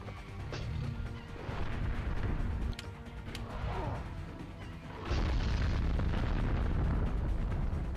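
Heavy rumbling explosions from a Quake attack in the video game Summoner, with crashing impacts and a loud booming surge that swells and holds near the end.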